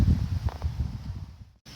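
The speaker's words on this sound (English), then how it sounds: "I'm sorry about how windy it is out here." Blustery wind buffets the microphone outdoors in bitterly cold weather at a garden tree-planting, a steady low roar with gusts that drops out briefly near the end.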